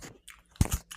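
Someone bites and chews a chocolate bar close to the mic, making a few sharp crunchy bites followed by quick chewing in a brief, quiet moment.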